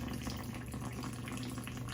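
Warm water is poured into a bowl for sourdough dough, a soft, continuous trickle at close range with no speech.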